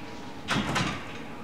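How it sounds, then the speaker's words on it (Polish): In the Outlast: Whistleblower horror game, a door is pushed open, giving a brief scraping creak of about half a second over a quiet low background hum, with no talking. "No spróbuj otworzyć te drzwi"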